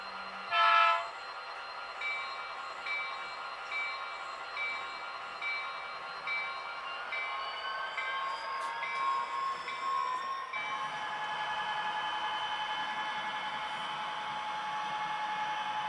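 A model train runs round its cars through a small rail yard, a steady mechanical hum with high whistling tones that rise and settle, shifting to a smoother drone partway through, with no voices.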